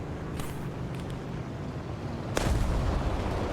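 A torpedo dropped from a Firecrest aircraft strikes its target in War Thunder: a steady rumbling game background, then a single sudden, loud, close explosion that booms and fades.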